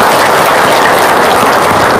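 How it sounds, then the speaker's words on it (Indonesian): An audience applauding, a steady, dense wash of clapping hands that holds loud and even throughout with no break or voices on top. "Tepuk tangan dong, luar biasa"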